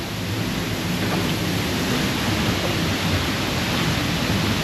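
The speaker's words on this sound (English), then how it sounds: "So it's still raining" Heavy rain falls in the Bali jungle near Ubud, a dense, steady hiss that fills the whole clip evenly and loudly with no pauses and no voices.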